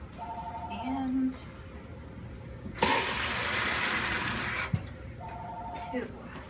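Water runs from a tap into a cup in a home kitchen, a steady rushing stream lasting about two seconds, with quieter room noise and a couple of short beeps before and after it.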